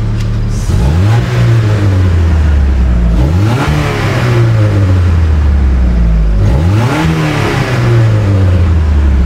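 A car engine runs loudly and close, with its drone rising and falling in three repeated swells of revs over a steady running hum, heard alone without speech.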